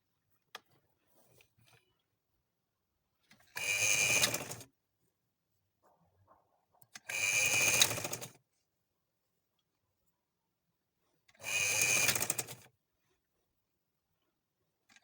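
A sewing machine stitches piping onto a newborn baby frock in three separate bursts of a second or so each, with quiet pauses between them and no talking.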